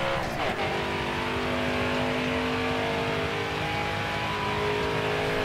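Steady loud roar of race car engines in NASCAR Heat 4 at Talladega during an Xfinity series race, a continuous close drone with a brief pass-by swell near the start, no talk.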